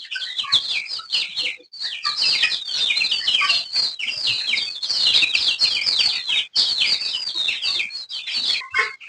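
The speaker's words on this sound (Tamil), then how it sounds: "இது என்ன கோழிடா இங்க இருக்கிறது?" Free-range country chickens, including the Giriraja breed, on a poultry farm keep up a busy chorus of clucks and chirps, with many overlapping calls close by and steady throughout, no talk.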